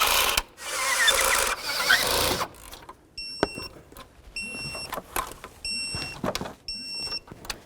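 A ratchet torques fuel rail bolts on a 2007-2017 Ford Expedition, with bursts of rapid clicking and several short tightening strokes after some rustling shop noise.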